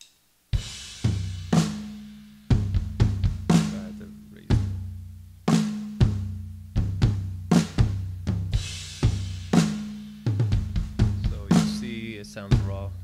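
Raw, unprocessed worship drum kit recorded with ordinary microphones: close, loud kick, snare and tom hits in a steady groove with ringing cymbal wash, playing alone for about thirteen seconds.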